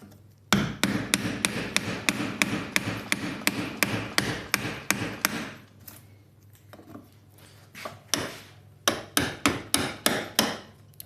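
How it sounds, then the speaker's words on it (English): A V-groove chisel struck repeatedly with a hammer, cutting a small groove in wood for a marble machine mockup; sharp, regular knocks in two bursts, close and loud, with a short quieter pause between them. "I found a chisel with a V groove."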